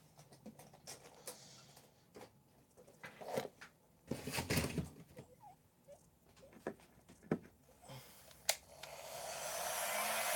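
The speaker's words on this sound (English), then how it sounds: "Preheat the heat gun." A heat gun for reflowing an 8800 GTX graphics card is preheated. Quiet handling knocks and clatter lead into its rising blowing hiss, which swells loudly over the last couple of seconds.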